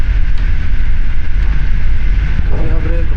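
Steady, loud low rumble inside a moving Polish Intercity train's first-class carriage, a constant mechanical drone with light rattling over it.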